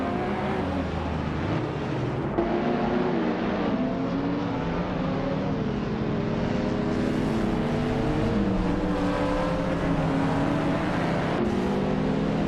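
Engines from a racing video game drone steadily throughout, several cars' overlapping whines rising and falling in pitch as they rev and shift, loud and continuous with no talk.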